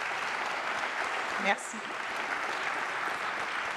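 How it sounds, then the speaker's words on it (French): Audience applause at a healthcare conference, a steady patter of clapping from a crowd, with a brief spoken word from someone nearby partway through. "Fait qu'ils méritent une bonne main d'applaudissement"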